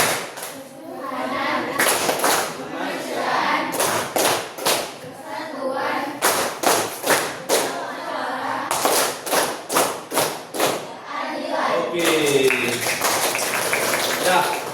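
Students in a vocational high school classroom in Banda Aceh perform the Tepuk Pancasila chant, with bursts of sharp rhythmic group claps in patterned sets alternating with loud sung chanting voices, repeated several times.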